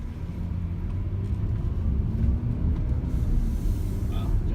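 Supercharged engine of a 2017 Jaguar F-Pace 35t accelerating gently on a brick road, a steady low rumble with tire and road noise heard from inside the cabin.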